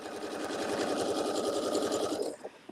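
A sewing machine top-stitches a fabric hotpad, a loud, steady rapid mechanical whir with a fast regular needle beat that runs without pause, then stops abruptly near the end.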